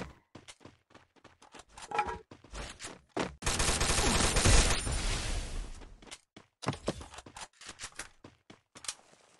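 Loud sustained burst of automatic gunfire in a shooting video game, sounding from about three to six seconds, with scattered single shots and clicks before and after.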